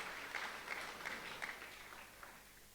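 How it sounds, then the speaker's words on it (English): Faint applause from the audience at a city address in Polokwane, a soft, distant spread of clapping that slowly fades over a few seconds. "Give yourself a round of applause that you are special guest of the mayor."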